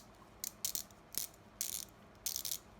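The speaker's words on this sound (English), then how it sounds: "You can hear I think they have a double pawl in there." SATA 120 series 1/4 inch drive ratchet with a double pawl clicks in several quick bursts, crisp and close but quiet, with short pauses between swings and no talking.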